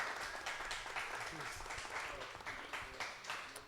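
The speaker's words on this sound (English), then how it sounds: "Kiran Shah, let's have a round of applause for this man." Audience applause at an on-stage conversation event with an actor, a steady round of clapping of moderate loudness that holds through the whole stretch, with some faint murmuring mixed in.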